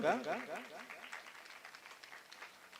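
An audience bursts into applause as a Ramayan singing group takes the stage at a village Manas-gan competition, the clapping loud at first and then tapering off. A voice speaks through the start.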